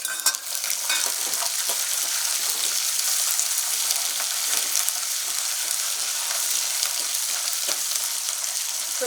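Curry leaves and red chilies frying in hot oil for pulikaichal, giving a steady, loud, crackling sizzle that fills the whole stretch with no voice over it.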